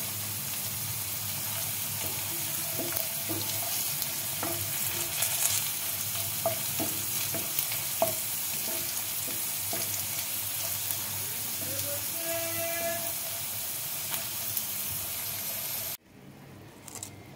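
Gathi kochu (taro) chips coated only in cornflour fry in hot oil with a steady, close, crackling sizzle for about sixteen seconds before cutting off abruptly.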